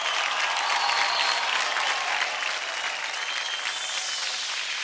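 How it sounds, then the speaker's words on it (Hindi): A television studio audience gives loud, sustained applause for two dancers on stage at a dance competition show, the clapping forming a thick continuous roar that eases slightly toward the end. "जोरदार तालियां हो जाए"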